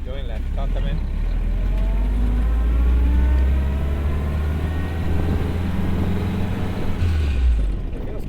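A restored Jeep, readied for the D-Day 80th anniversary, drives with its engine running as a steady low drone throughout, loud and close, with a voice talking over it.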